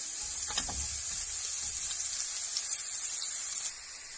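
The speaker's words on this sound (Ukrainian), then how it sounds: "Спочатку обжарюємо цибулю." Onion sizzles in a hot pan with a loud, continuous hiss and a few soft utensil taps early on. The frying drops slightly in level near the end.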